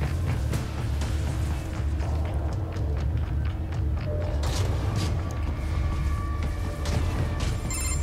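Door opening in the video game Metal Gear Rising: a dense, continuous mechanical creaking and grinding that stays loud throughout, with scattered clanks near the end.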